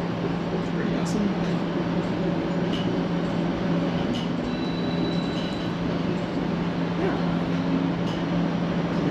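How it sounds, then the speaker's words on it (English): Northbound ION light rail train at Frederick Station in the Waterloo region, a steady, moderately loud rumble with a low electrical hum and faint high tones running throughout. "There's Frederick Station with the northbound train."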